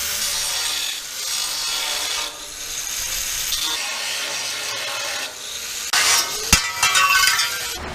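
A saw cuts steadily through a truck bumper in repeated long rasping strokes, with a sharp metallic clank and clatter near the end.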